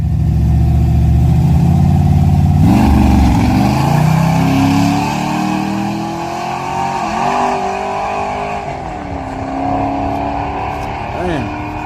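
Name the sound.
drag racing car accelerating with a stumble and misshift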